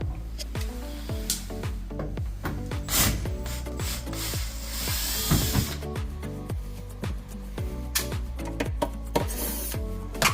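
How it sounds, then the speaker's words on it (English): A power drill fitted with a 5/16 nut driver whirs in repeated short bursts, ratcheting and clicking as screws are driven out of an air conditioner blower panel, with brief pauses between runs. "I'm going to use a 5/16 nut driver"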